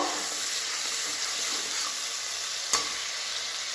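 Green chili paste, with cumin paste, sizzles steadily in a hot pan for a Bengali fish curry as it is stirred, a soft continuous hiss broken by a single sharp clink of the spoon.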